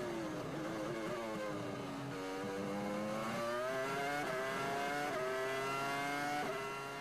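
Michael Schumacher's 2002 Formula One car at the Australian Grand Prix screams through its gears, a high-pitched engine whine that rises and drops with each upshift and braking over a distant crowd-like roar.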